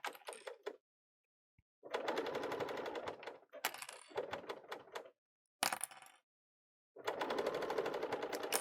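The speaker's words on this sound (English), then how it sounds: "let your machine sew with that 4-thread overlock" A Bernina L890 serger stitches a 4-thread overlock in several short, close bursts of rapid mechanical whirring, with brief silent pauses between runs.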